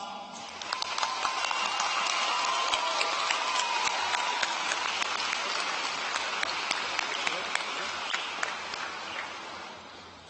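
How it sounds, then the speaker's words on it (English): A large audience at a high school graduation applauding steadily, dense clapping at an even level throughout before tapering slightly at the end. "We welcome your applause."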